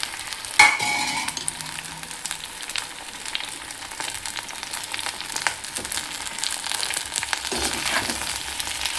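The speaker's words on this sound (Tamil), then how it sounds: "இப்போ வெண்டைக்காய் கொஞ்சம் நல்லா வதங்கட்டும்" Okra sautéing with curry leaves in a hot pan: a sharp clatter as the pieces go in, then continuous sizzling with repeated scraping and stirring strokes, close and fairly loud.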